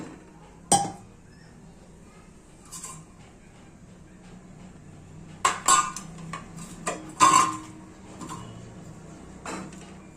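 Potatoes for vada pav are set into a metal container, giving sharp scattered clinks and knocks of metal, a few isolated hits then a cluster of taps, close and alone.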